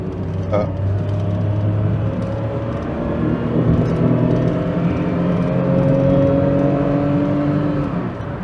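A free car said to have issues hums steadily while driving, with a low continuous drone and whirring tones that rise and shift slightly as it accelerates, close and loud.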